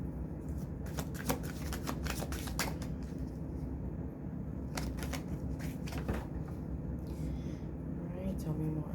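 Tarot cards are shuffled in short riffling bursts, crisp and close, repeating in clusters over a low room hum while a voice speaks quietly.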